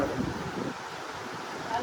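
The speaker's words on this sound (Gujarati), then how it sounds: "સવારે દસ વાગ્યાથી ધોધમાર વરસાદ ચાલુ થઈ ગયો છે" Heavy monsoon rain pours down outdoors in a continuous, dense hiss that stays steady and fairly loud throughout.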